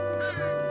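A bird caws in the side-scrolling video game Santa Clause In Trouble, a short, harsh synthesized call over steady game music, loud and close.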